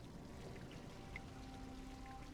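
In a dungeon-crawler video game, water pours steadily from a pipe into a hole in the floor, a continuous soft splashing stream with faint drips, low in level and with no voices.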